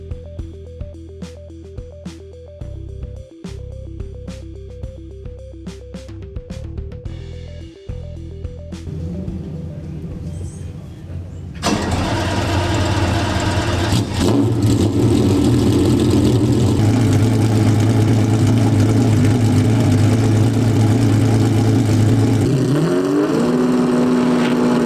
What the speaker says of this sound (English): Amongst the other cars that are here on the track today, this has got to be the best sounding car.